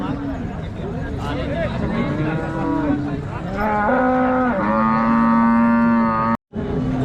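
Cows at a cattle market, including HF cows, moo loudly and repeatedly. The long, close calls rise over a steady background of crowd babble.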